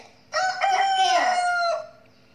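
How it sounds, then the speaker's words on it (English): A rooster crows loudly and close by in one sustained, strained cock-a-doodle-doo call lasting over a second, standing alone against quiet. "Chicken."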